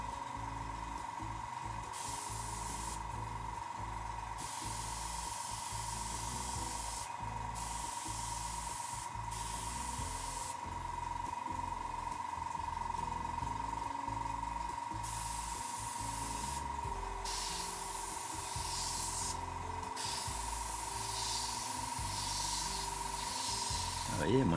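An Iwata Revolution mini HP-M2 airbrush spraying paint in repeated short bursts, each a soft airy hiss starting and stopping, with a steady compressor hum underneath.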